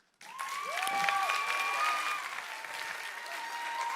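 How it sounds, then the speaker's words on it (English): An audience applauds after a student science presentation. A sudden burst of clapping swells, holds for several seconds, then eases into a steadier patter, with some bright tonal sounds running through it. "A big round of applause for Kanghyeon Kim"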